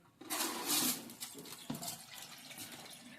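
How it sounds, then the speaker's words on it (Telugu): Water is drained off rice soaked for making sesame ariselu, a short, close gushing pour that swells quickly, eases off, and then trickles and splashes softly. "ఇప్పుడు నీళ్ళు వంపేసుకోవాలి"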